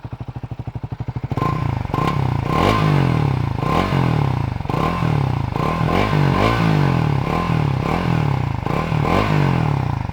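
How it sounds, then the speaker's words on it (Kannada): A Triumph Tracker 400 motorcycle with a dual port exhaust fires up and settles into a loud, close exhaust note, repeatedly rising and falling in steady throttle blips after a brief starter crank. "ಇವಾಗ ಒಂದ್ಸರಿ ಎಕ್ಸಾಸ್ಟ್ ನೋಟ್ ನ ಕೇಳೋಣ ಬನ್ನಿ."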